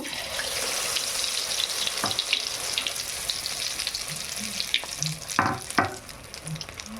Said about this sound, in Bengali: এটা আমি মাঝারি আঁচে ভাজবো, বেশি আঁচ দেব না।